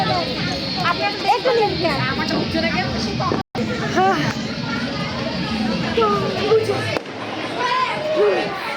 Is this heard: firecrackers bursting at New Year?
yes